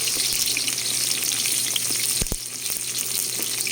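Ginger sizzles and fries in a hot pan with a steady, bright crackle, broken by a couple of sharp knocks partway through as it is moved around.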